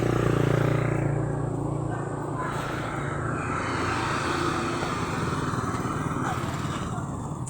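A motorcycle engine runs steadily nearby with a continuous low rumble and broadband roar, holding fairly constant loudness through the whole stretch with no talk over it.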